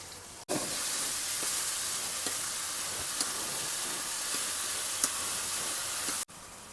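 Gram flour batter pours into a hot kadhai for buttermilk kadhi, setting off a loud, even sizzling hiss that starts abruptly, holds steady for about six seconds with faint crackles, then cuts off.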